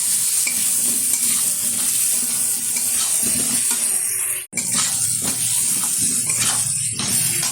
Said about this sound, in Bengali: আবার একটু নাড়িয়ে নিচ্ছি।